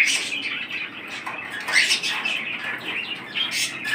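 Birds at the Mirpur-1 bird market, a dense close chorus of high chirps and squawks layered over one another without pause.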